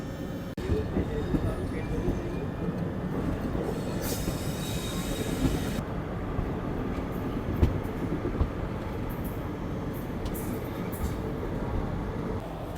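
A train arriving at a railway junction station rolls along the tracks with a steady rumble, a burst of squealing wheels partway through, and a couple of sharp clanks near the end.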